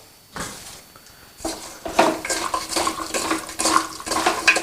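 A spoon scrapes and clanks against a pan while veg chicken is stirred and mixed with homemade masala powder and salt, repeated rhythmic metallic knocks over a wet background.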